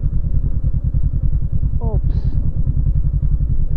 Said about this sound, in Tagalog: Mabigat ang motor natin, dadaos-dos lang tayo dyan.